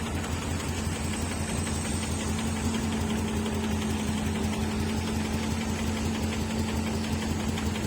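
A crawler tractor engine runs steadily in a rice field, a continuous low rumble with a rhythmic knocking throb, loud and unbroken with no voices.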